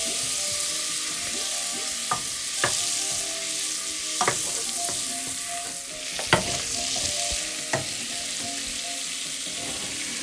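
Butter melting into hot oil in a pan sizzles with a steady broadband crackle, punctuated by a few sharper pops and spits, close and continuous with no talking, while a vegetable curry is being cooked.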